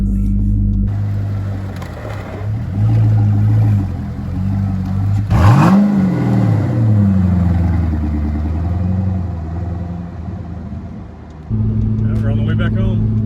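A Corvette fitted with a wide body kit cruises along a highway, its engine drone and road rumble steady under continuous talk, with one brief pitch swoop of engine revving partway through.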